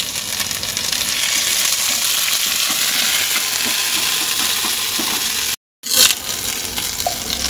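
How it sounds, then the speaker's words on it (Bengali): Ginger and green chilli paste sizzles hard in hot oil, a steady loud frying hiss with a short break before it flares again, no voices. "এবার তেলটা গরম হয়ে গেছে, ওই যে আদা বেটে রেখেছিলাম, আদা কাঁচা লঙ্কা, ওটা দিয়ে দেবো।"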